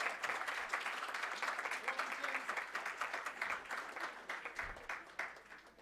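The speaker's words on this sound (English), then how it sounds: "Please give him a round of applause, ladies and gentlemen." Audience applause at a World Tourism Day launch ceremony honoring a villager in traditional dress, steady dense clapping filling the hall for several seconds, with faint talk underneath and a gradual thinning near the end.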